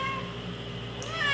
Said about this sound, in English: If there's anything I learned about Persian cats, they are so talkative and they're so... they know how to communicate